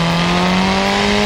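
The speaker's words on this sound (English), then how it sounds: "The third mode is Snarl. It gets maximum power and a crazy exhaust note." Turbocharged Hirochi Sunburst in BeamNG running its Snarl exhaust mode, a loud, steady engine drone with a strong low buzzing tone held for a brief moment, close and unbroken.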